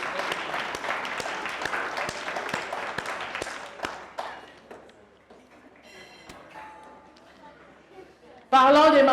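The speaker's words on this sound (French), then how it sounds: "je voudrais bien que toute l'Assemblée puisse applaudir pour ces mamans" An assembly applauds for the mothers at a ceremony. The clapping is crisp and sustained at first, then thins out to scattered claps and fades. A voice starts speaking loudly near the end.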